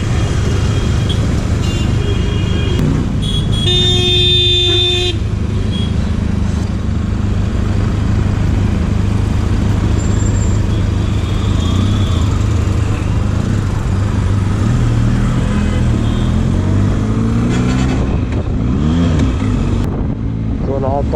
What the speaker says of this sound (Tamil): என்னடா காலையில் இவ்வளோ டிராஃபிக் வச்சுருக்கீங்க?